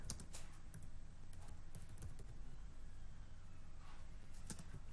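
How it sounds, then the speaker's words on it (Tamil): Steady typing on a computer keyboard while entering text in MS Word, rapid clicky keystrokes at a low level with no voice. "எக்ஸாம்பிள் நான் டைப் பண்ண போறேன்"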